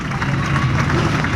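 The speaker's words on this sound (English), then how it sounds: "Let's give him a nice round of applause on his first career victory here at Riverside Park Speedway." Crowd applauding in victory lane at Riverside Park Speedway after a strictly stock feature win, a dense continuous patter of clapping heard from a distance, with a faint voice underneath.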